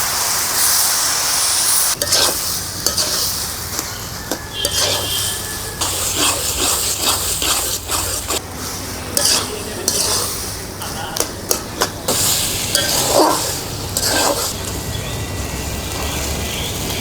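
Garlic and onion fry in a pan for a Bengali village dish, with a steady sizzle underneath and a spoon repeatedly scraping and clinking against the pan throughout, close and fairly loud.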